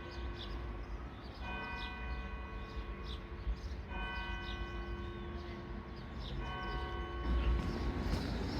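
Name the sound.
clock chiming the hour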